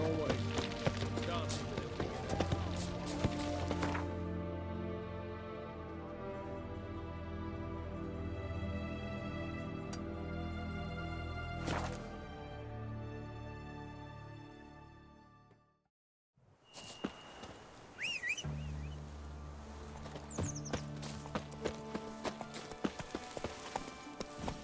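Roach, a horse in The Witcher 3: Wild Hunt, gallops with steady rhythmic hoofbeats over a game music bed, with a short quiet break before the gallop resumes and a voice speaking briefly.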